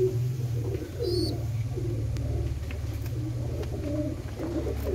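A Kalchina pigeon pair cooing, low throaty coos repeating in a steady rhythm close by, with a brief higher chirp near the start and no talking.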